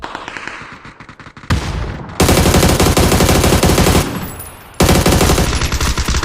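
Rapid automatic gunfire in a video game, loud and close, comes in long sustained bursts separated by short pauses, with sharp repeating cracks throughout.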